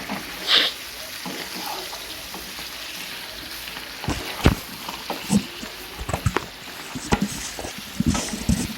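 Pork pieces frying in a pan for a Bengali-style pork kasha crackle with a soft, steady sizzle, broken by clinks and scraping stirs of a utensil against the pan, close by and without talk.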